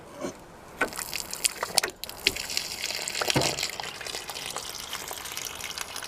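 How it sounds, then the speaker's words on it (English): Water gushing from the hot and cold low point drains beneath a Forest River Surveyor Legend RV during winterizing, a steady broadband rush with occasional splashy bursts and knocks, fairly close, with no talking. "Now we just have to open up both your hot and cold low point drains."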